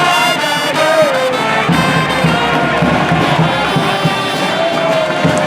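A small crowd of spectators fills a stadium with steady cheering and shouting after a goal in a FIFA international football match in Benin, loud and continuous throughout.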